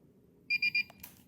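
A metal detector pinpointer gives three quick, sharp electronic beeps in an even rhythm, close and clear over faint background noise, followed by a soft click.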